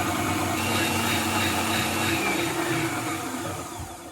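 A Magimix food processor churns with hot water inside to clean it after making almond milk, a loud, continuous close whir and slosh that eases off slightly toward the end.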